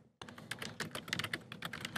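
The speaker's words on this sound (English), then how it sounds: "typing away here" Rapid, irregular typing on a computer keyboard clatters up close, with dense keystrokes running continuously after a brief quiet start.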